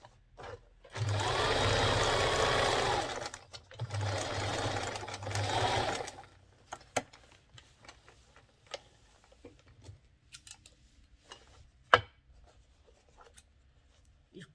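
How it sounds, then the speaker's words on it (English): Sewing machine topstitching a side pocket onto a trouser panel in two bursts of a few seconds each, followed by quiet handling clicks and a sharp snip near the end. "So now you top stitch it to the panel."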